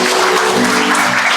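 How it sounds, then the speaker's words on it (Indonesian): A church congregation at a Sunday service applauds, a dense, even wash of clapping that holds for the whole moment with no voice over it. "Berikan tepuk tangan untuk Tuhan."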